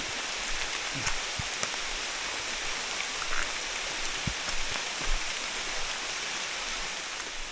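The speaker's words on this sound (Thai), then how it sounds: "จัดนักอีกแล้วฝนนี่" Heavy rain falling in a forest during a foraging trek, a dense steady roar of drops on leaves and ground with a few louder nearby splats, constant and with no talking.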